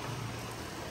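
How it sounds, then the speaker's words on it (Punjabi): Steady rain falling during a downpour, a dense even hiss with no pauses, fairly close and filling the whole short stretch without any voices. "ਮੀਂਹ ਦਾ ਆਨੰਦ ਪੂਰਾ"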